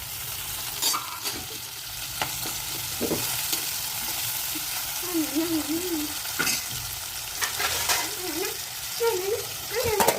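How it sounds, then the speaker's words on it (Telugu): Onion, green chillies, tomato and curry leaves frying for simple fried rice, a steady sizzle with scraping stirs and clinks of a spatula in the pan, with a voice talking over it at times. "ఉల్లిగడ్డ వేసుకుందాము, పచ్చిమిరపకాయలు వేసుకుందాము, టమాటా, కలమాకు."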